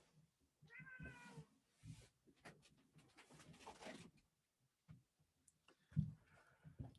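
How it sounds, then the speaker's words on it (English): A house cat meows several times up close, drawn-out rising calls near the start followed by a shorter, sharper meow toward the end, with quiet gaps between. "my cat is meowing at me"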